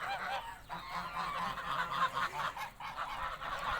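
A small flock of five domestic geese honks steadily and fairly quietly, with overlapping calls and no talking.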